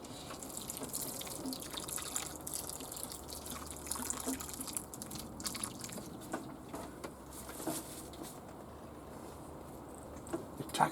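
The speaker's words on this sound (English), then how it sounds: "a good watering." Water is poured over a freshly planted magnolia or rose cutting, a soft continuous trickle and patter of liquid that stays faint and close throughout.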